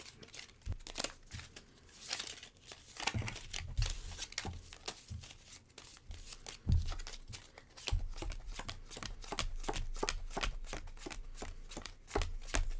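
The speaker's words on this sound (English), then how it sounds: "going to shuffle the deck" A deck of cards is shuffled over and over during a tabletop game, giving close, crisp riffling bursts and soft slaps in an uneven rhythm, with no talk.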